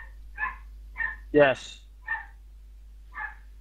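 Dogs barking in the video game Civilization V: several short, sharp barks spaced about half a second apart, moderately close, with a brief spoken word breaking in midway.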